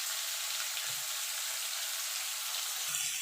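Ridge gourd fries in oil in a pan, giving a dense, steady sizzle with a few soft stirring thumps underneath, continuous and close throughout.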